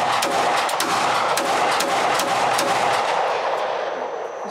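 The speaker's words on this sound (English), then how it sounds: "Let's end with the Type 54 with some fireballs at dusk." A Type 54 pistol, a Chinese-made Tokarev, firing at dusk with muzzle fireballs. Loud, rapid shots crack one after another with dense echo, and the fire stays heavy throughout.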